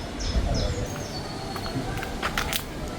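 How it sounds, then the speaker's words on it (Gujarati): Birds chirp and call outdoors, short tweets repeating over a low background murmur, with a few sharp chirps standing out. "કબૂતર ચકલાના અવાજો"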